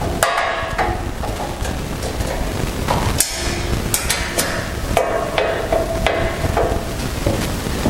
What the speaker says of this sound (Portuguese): pronto, vou parafusar.